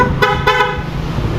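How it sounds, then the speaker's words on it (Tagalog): Two short car horn honks in quick succession, loud and close, over a steady low rumble of wind or an idling engine. "Busina."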